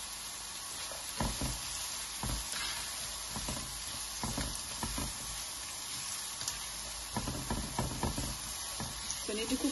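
Onions sizzle in a pan while cooking for king fish biryani, a soft steady frying hiss broken by scattered knocks and scrapes as they are turned over.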